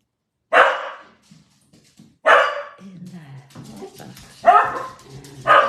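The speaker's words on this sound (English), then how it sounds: "Sorry, Rose, if we woke your little puppy up." A small puppy barks indoors at home: four sharp, fairly close yaps spaced a second or two apart, with soft whimpering and faint rustling in the gaps.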